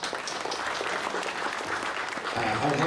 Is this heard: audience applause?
yes